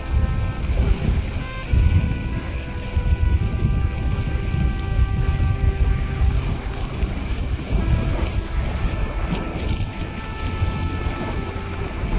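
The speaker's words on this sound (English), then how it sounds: "45 mile an hour to 50 mile an hour winds" Strong 45 to 50 mph wind buffets the microphone with a loud, steady low roar, mixed with the wash of sea and surf near an airport shoreline.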